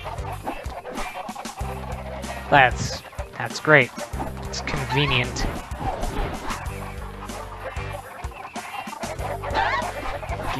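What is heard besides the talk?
chickens clucking in a video game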